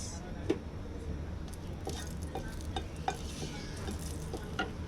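Two dried red chillies sizzle steadily in hot oil in a pan, a continuous close crackle with occasional sharp pops and stirring clicks, no talk over it.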